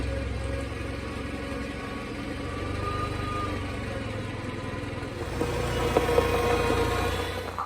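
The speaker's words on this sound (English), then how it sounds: "So we're going to pull the tractor out and then get the mower positioned underneath" A Farmall 140 tractor engine runs steadily at idle, a continuous low mechanical drone that swells slightly louder near the end, with no talking.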